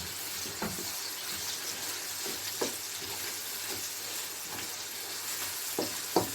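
Garlic ginger paste sizzles steadily in a pan with fried onions, a continuous bright hiss broken by occasional louder crackles and pops, close up with no talking.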